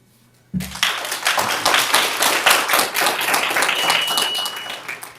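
Audience members at a school board meeting break into applause after a short silence, a loud, dense, sustained clapping from many hands in a meeting room that continues evenly to the end.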